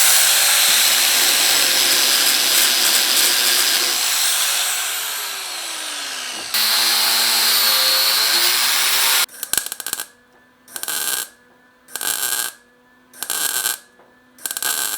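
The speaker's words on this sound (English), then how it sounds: "I'm going to grind this down now and see if there's any pinholes" An angle grinder works down a weld on a VW drip rail, a loud continuous whine that drops in pitch and cuts out, then returns as four short bursts separated by pauses.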